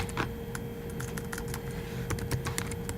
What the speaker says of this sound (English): you type it in